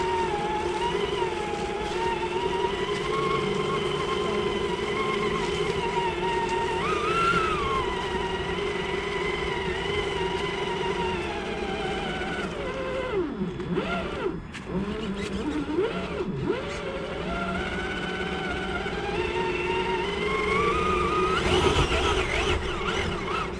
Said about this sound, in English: so this is my first outing with the trx4 Bronco 21.